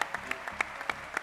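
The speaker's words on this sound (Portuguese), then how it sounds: "Salva de palmas." Audience applause at an award presentation for a footballer, a short burst of light, scattered clapping with a few distinct claps standing out, fairly faint.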